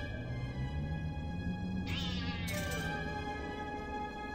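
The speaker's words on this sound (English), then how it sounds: "Oh, it's a cat." A cat meows once in the Black Mirror video game, a single short, fairly faint mewing call over a low steady ambient hum.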